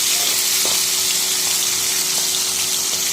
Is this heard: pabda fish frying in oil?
yes